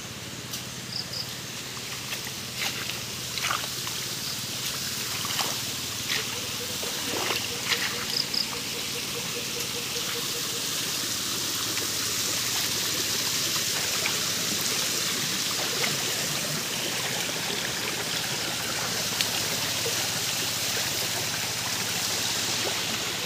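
A mountain creek flowing over rocks, a steady soft rush of water that grows a little fuller partway through, with insects chirping faintly and a few scattered light clicks and knocks early on.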